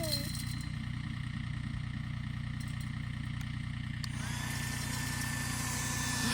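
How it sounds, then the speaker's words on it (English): A John Deere tractor engine gives a steady low rumble throughout, idling close by with constant vibration and no clear changes in pace. "Tractor."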